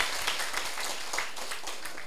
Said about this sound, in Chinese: 甲拍手一下看